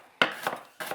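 A knife slicing through celery on the bias against a cutting board, two crisp chopping strikes with a sharp onset, the second arriving just under a second after the first.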